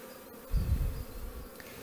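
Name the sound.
honeybees buzzing around a hive nucleus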